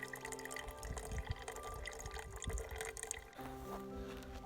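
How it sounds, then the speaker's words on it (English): Lake water pouring and trickling through a filter into a Nalgene bottle at a lakeside camp, a steady close splashing flow with small drips, shifting in tone near the end as the bottle fills, with no talk. "we're just filtering out all this lake water, filling it up"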